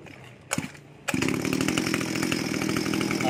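A Robin NB231 grass trimmer engine catches after a couple of quick pull-start tugs and then runs steadily at a loud, close, buzzing high idle.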